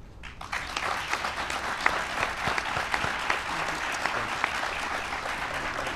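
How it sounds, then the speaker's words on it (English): Sustained audience applause at a formal event honoring several women, a dense, steady wash of many hands clapping that swells in quickly and holds evenly throughout, with no one speaking over it. "Give these extraordinary women one more big round of applause."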